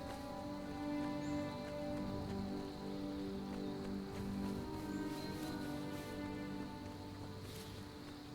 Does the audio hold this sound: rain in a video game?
yes